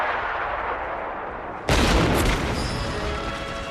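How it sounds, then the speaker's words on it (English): A quiet rumbling bed suddenly erupts into a loud, sustained burst of artillery shell blasts and rifle gunfire in a film scene, booming and crackling for the rest of the clip. "using the sound of artillery shells to mask his shots."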